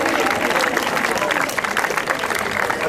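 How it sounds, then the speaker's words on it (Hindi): Crowd applause welcomes the president of a district sports association at a race championship event in Chiniot, steady dense clapping throughout, loud and close, with a voice talking over it. "तालियों से इस्तकबाल कीजिए।"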